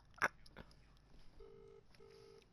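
A phone call being dialed: a sharp click, then two short steady dial tones in a row, faint and close, against a quiet background.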